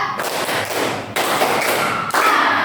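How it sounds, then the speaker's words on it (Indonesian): Students in a classroom clap together on a teacher's count, giving dense bursts of massed handclaps in three sharp, loud sections close by. "Tepuk tangan 3."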